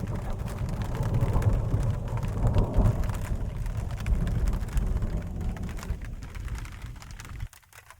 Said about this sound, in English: it just started really raining outside